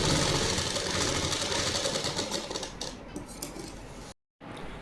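Sewing machine stitching a seam on a suit kameez, a steady fast mechanical whir that slows slightly and cuts out briefly near the end before resuming, close and alone.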